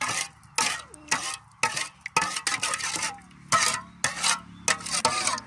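A utensil stirs a Lao-style rice noodle dish dressed with fermented fish sauce, giving repeated scraping and clattering strokes against the bowl, close and busy with no talk.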